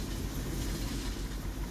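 An electric commuter train passes in Farming Simulator 15 on a Samara Volga map, giving a close, continuous rolling rumble with faint wheel clatter and no pause throughout.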